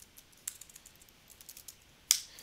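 Light, sparse keystrokes on a computer keyboard while a password is entered on a Linux system, a handful of quiet taps with one sharper final key press, nearly alone in a quiet room.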